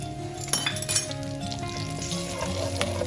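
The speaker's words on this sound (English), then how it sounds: "Just let this fry for just about a couple of seconds." Red chili powder and Kashmiri chili fry in oil in a pan, a soft steady sizzle with a couple of light metallic clinks from a spoon against the pan.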